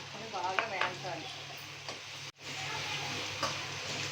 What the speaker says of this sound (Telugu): మిల్ మేకర్ వేసి బాగా వేయించుకోవాలి.